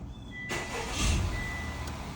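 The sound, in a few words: Honda Accord 2.0T engine starting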